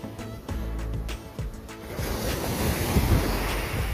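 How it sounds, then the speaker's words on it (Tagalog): Ocean waves washing up on a resort beach, a close rushing surge of water that swells and hisses across the sand amid wind buffeting the microphone, preceded by a few knocks and scuffs. "Umabot yung alon dito"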